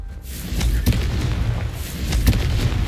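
A Confringo spell explosion in the Hogwarts Legacy video game sounds as a heavy low rumbling boom with a couple of sharp impact cracks on top, loud and sustained without speech.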